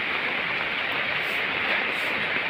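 Steady rain falls on a house in Sawang Daen Din district, Sakon Nakhon, Thailand, a dense, even hiss that holds at constant loudness throughout, with no voices.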